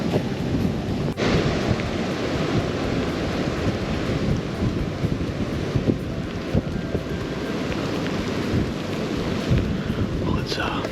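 Steady rain and gusting wind roar through the woods on a cold evening at a Michigan public-land deer camp, a dense continuous wash of noise with occasional buffeting against the microphone.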